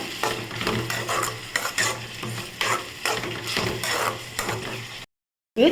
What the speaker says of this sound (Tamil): நம்ம தக்காளி வதங்கிறதுக்கு கொஞ்சமாக உப்பு சேர்த்து நல்லா வதக்கிக்கோங்க